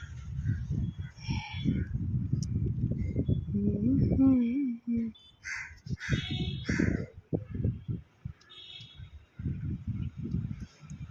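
Crows caw repeatedly at a backyard feeding spot in Trivandrum, harsh calls scattered through the clip, at times overlapping with people talking nearby.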